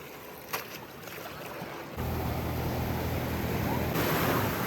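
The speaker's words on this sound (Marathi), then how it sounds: "लाट येणार रे" Sea waves at Ganpatipule beach wash in as a steady broadband rush that swells louder partway through and holds, with wind noise throughout and a brief voice near the start.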